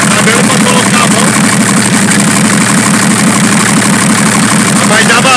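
A Chevrolet D60 truck with an oil leak idles loudly close up, its engine rumbling in a steady, rough, throbbing rhythm that fills the whole stretch without a break.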